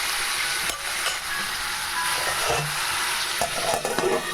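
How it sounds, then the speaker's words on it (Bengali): Tomato chutney frying in a pan as turmeric is stirred in, producing a constant bright sizzle broken by spoon scrapes and clacks against the pan, with no talking. "সামান্য পরিমাণ হলুদ এরপর আমি একটু নেড়ে নেব"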